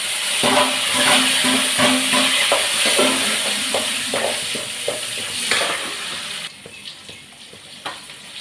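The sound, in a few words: spices sizzling while tempering (tadka) for fish curry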